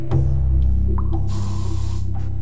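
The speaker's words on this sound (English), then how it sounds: "I'm not sure how the spray actually works." A healing spray in the video game Gods Will Be Watching releases a loud, steady hiss lasting under a second, sitting over a continuous low game hum with faint clicks around it.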